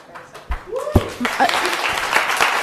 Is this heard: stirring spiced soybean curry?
no